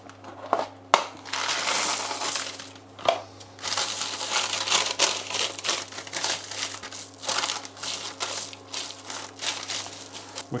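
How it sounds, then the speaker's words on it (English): Ceramic baking beads are poured and spread across a pastry case for blind baking a honey and stout tart, giving a continuous close rattling, crunching clatter with brief pauses and renewed bursts. "we're going to use these ceramic beads. Spread those around."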